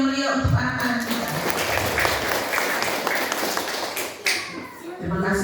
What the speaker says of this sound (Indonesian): Kita tepuk tangan dulu yang meriah untuk anak-anak kita.